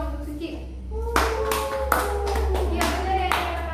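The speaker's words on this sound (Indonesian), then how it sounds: "tepuk tangan dulu dong untuk Suci" A classroom of students clapping for a classmate in a microteaching lesson, several bursts of hand claps over a low steady hum, after a brief stretch of quiet voices.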